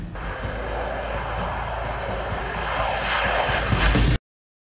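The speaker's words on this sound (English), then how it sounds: "Just been up flying the first Brazilian aircraft that you can see behind me." First Brazilian Saab Gripen E fighter jet after its first flight: a steady, loud jet-engine roar that swells slightly before cutting off abruptly, with no talking.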